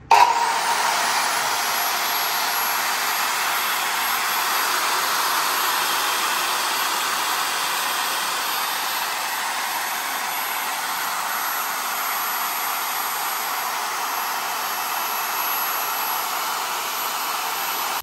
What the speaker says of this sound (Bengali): সার্কুলার সো, যেটা কিনা ফার্নিচারের জন্য বেশ ভালোভাবে ব্যবহার করা হয়ে থাকে। দেখেন এটা কতটা শক্তিশালী এবং পাওয়ারফুল এই ফিক্সটেক ব্র্যান্ডের 235 mm এর।